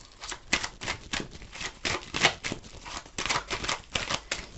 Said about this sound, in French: Je vais recouvrir les cartes.